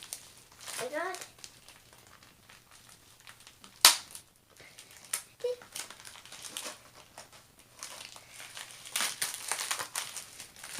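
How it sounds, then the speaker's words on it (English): A diamond painting kit package, a 30 by 30 partial round purple rose design, is cut open and unwrapped, with a sharp snip and crinkling plastic rustles between people talking, a child among them. "Here, I'll cut the top and then you can open it."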